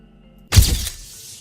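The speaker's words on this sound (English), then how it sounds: "the shatter of breaking glass was coupled with a sudden flash of light" Glass shatters in one sudden loud crash, its bright breaking burst quickly decaying into a short tail of scattered fragments, heard alone against a quiet background.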